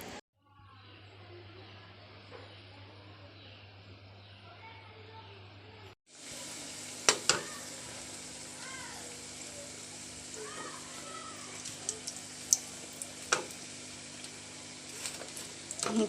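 Coconut pitha frying in hot oil for Eid, a steady close sizzle and crackle that grows louder partway through, with occasional pops and a faint hum, while a person talks over it.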